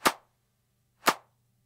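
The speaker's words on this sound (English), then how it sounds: "So our claps in total sound like this." Layered electronic clap samples with a reverse clap swelling into each hit; two sharp, bright claps about a second apart, fairly quiet, with a low hum between them.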